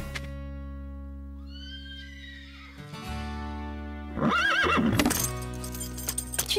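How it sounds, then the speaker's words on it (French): A cartoon horse, a spirited stallion, whinnies in a long rising-and-falling neigh, followed by snorting and a louder, agitated burst of neighing and stamping near the end over a steady animated-show music bed. "C'est vrai que Diablo est un cheval fougueux"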